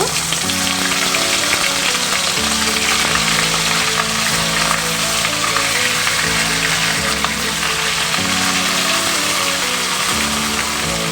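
Cauliflower florets coated in salt and turmeric frying in mustard oil in a kadai, a steady dense sizzle close up, running continuously under background music.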